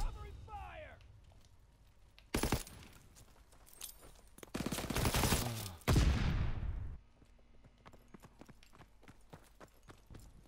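Rapid gunfire rattles through a Call of Duty: WWII match, swelling into a dense, loud stretch of sustained shooting before cutting off, with game noise and a voice around it.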